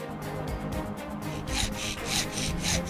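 A glazing bead cut with a 45-degree mitre buddy, rapid back-and-forth sawing strokes close up, growing louder and brighter in the second half, no talk.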